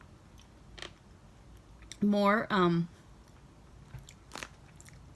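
Crunchy Taiwanese puff cracker snacks are bitten and chewed up close, giving a couple of short crisp crunches and clicks amid brief speech.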